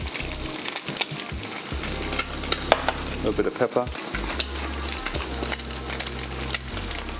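Eggs sizzle and crackle steadily in a hot pan, with a voice speaking briefly over the frying.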